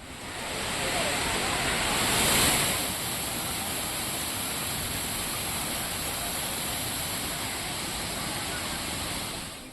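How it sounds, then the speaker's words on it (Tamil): Water roars down Thirparappu waterfall in Kumari after rain, a dense, steady rushing wash that swells slightly early on and then holds an even, loud level. "குமரியில் பெய்த மழையால் திருப்பரப்பு அருவியில் ஆர்ப்பரிக்கும் தண்ணீர்."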